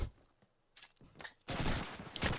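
Thompson submachine gun fire in Call of Duty 2 during a competitive match, with short bursts of rapid automatic shots and a longer sustained volley at the end.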